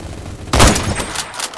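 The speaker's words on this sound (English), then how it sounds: "Where am I getting shot from?" Gunfire in the Roblox video game: a sudden loud burst of shots hits after a quiet start, followed by a rapid crackling trail of further shots that fades out.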